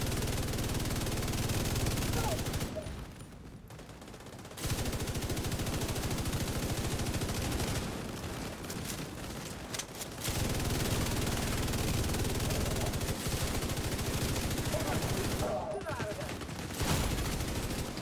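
An enemy fires at the player in a video game, with rapid sustained bursts of automatic gunfire broken by short pauses, loud and dense throughout with no talking.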